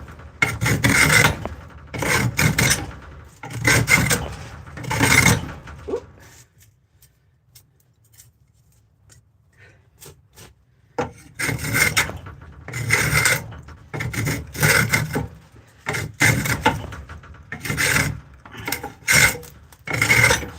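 Old Stanley Handyman hand plane shaving wood, repeated rasping strokes in close, loud bursts with a quiet pause in the middle, no talk.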